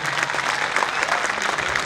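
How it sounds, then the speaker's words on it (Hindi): Audience applause at a school Phag 2022 event honouring teachers, a dense, steady wash of clapping from a crowd throughout, fairly even and continuous with no voices standing out. "मैं चाहता हूं एक बार पुनः उनके सम्मान में तालियों का उद्घोष हो"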